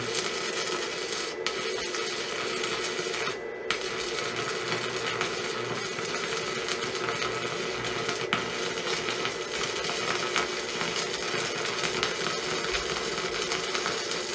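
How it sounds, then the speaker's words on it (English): A Yeswelder Arc 20 stick welder runs a bead, giving a steady, dense crackling hiss that continues unbroken for about fourteen seconds, with no speech. "I'll run a bead across here and you can laugh at how bad my welds are"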